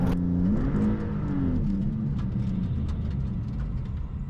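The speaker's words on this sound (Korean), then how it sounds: "MC20 발진 가속 성능 한번 볼까요?" A Maserati MC20 pulls off in a launch, its engine holding a steady, loud, rising drone that shifts pitch once early on and keeps pulling hard, with no voices.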